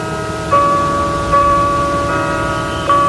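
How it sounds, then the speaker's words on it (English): Bells at St. Anne's Catholic Church ring steadily with sustained, overlapping tones and a fresh strike roughly every second or so, heard alone over a faint noisy background. "Bells at St. Anne's Catholic Church rang out for Congressman Mickey Leland this morning"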